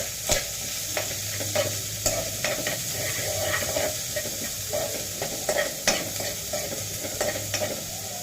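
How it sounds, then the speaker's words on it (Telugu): Chopped onions and green chilies frying in a pan for ugganie, a steady close sizzle broken by regular scraping knocks as a spatula stirs them. "ఉల్లిపాయలు కొంచెం బాగా మగ్గిన దాకా కొంచెం ఫ్రై చేసుకుందాం"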